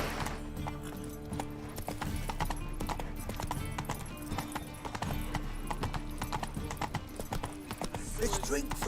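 Horse galloping in the video game The Witcher 3, rapid rhythmic hoofbeats continuing throughout, close and prominent, with a voice speaking over them and game sounds layered underneath.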